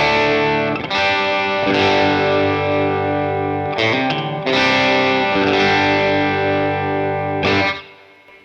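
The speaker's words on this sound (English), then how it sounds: "That's one of the clean amp settings" An electric guitar through a Boss Katana amp on a clean setting with gain pushed up rings out in sustained chords, struck a few times and left to sustain, close and loud, with no voices.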